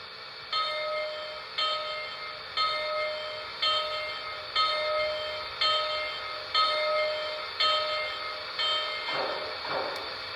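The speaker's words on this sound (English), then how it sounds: "And let's listen to the bell." A Lionel Legacy Heavy Mikado model train rings its bell in a steady, even clang repeating about twice a second, clear and close with a faint hum beneath and a brief rustle near the end.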